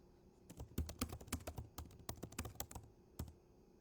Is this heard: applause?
no